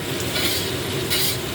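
Bisugo fish coated in flour fries in a pan with a steady, dense sizzle and crackle, loud and close, with a few brief louder bursts and no talking.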